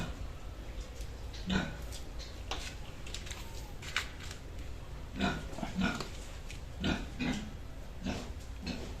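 Five piglets bought for lechon grunt and squeal in short bursts, scattered irregularly over a rustling, noisy background at moderate distance, with little talk.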